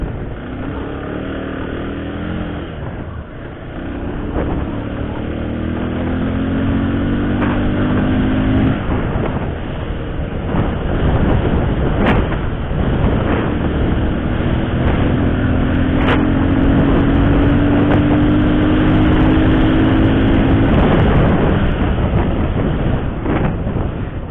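A Bajaj Pulsar 220 motorcycle accelerating through its gears, the engine rising in pitch, dropping at each shift and climbing again, loud and close, no talking.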